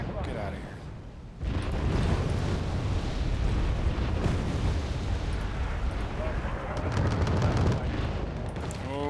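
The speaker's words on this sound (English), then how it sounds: "Those damn mortars." Mortar artillery fire in the video game Wargame Red Dragon: a dense, continuous roar of overlapping blasts and rumbling impacts that keeps going without a break, loud throughout.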